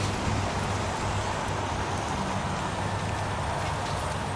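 Steady rain pours across a gloomy scene in the video game Heavy Rain, a dense continuous hiss with a low rumble beneath, loud and unbroken throughout.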